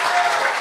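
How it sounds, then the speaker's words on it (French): Studio audience at a gong-show comedy talent contest breaks into dense, loud applause, a steady wash of clapping in one short burst. "On peut l'applaudir."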